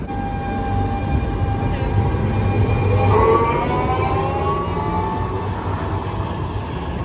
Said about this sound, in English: and then the tram just left